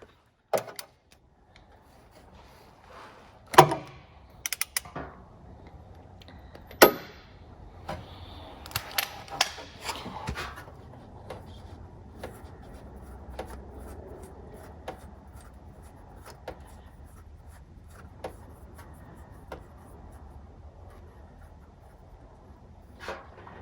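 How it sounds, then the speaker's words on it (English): A 15/16 socket loosens the oil drain plug on a 1962 Morris Mini, giving scattered metallic clicks, taps and scrapes at irregular intervals, with a few sharper knocks early on, close by and without talk. "This takes a 15/16 socket, so I'll just get this loosened up, pull my pan over, and get the oil drained."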